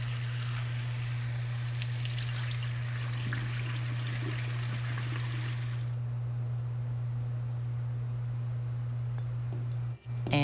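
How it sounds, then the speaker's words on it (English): Tap water runs over pork being rinsed in a kitchen, a steady close splashing stream that cuts off abruptly partway, leaving a low hum and quiet handling noises. "Then I'm going to rinse the pork, just removing all of the fatty impurities that have come out."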